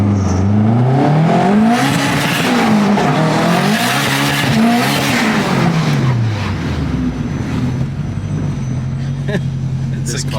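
An Integra GS-R with all-wheel drive accelerates hard, its engine loud and close as the revs climb, drop at shifts and climb again, with a rising whine throughout.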